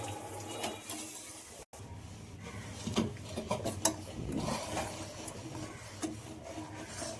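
Milk being stirred by hand with a spatula in a pot over a gas flame for payesh, giving soft irregular scraping and rubbing strokes close by, with no talking.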